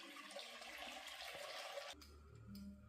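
Lukewarm water is poured and sloshed into a bowl for soaking fried vadas, making a steady close watery rush that cuts off near the two-second mark and gives way to quieter splashing.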